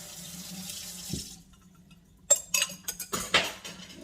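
A kitchen tap runs steadily for over a second, then shuts off, followed by close clinks and knocks of utensils and dishes in the sink with no talking.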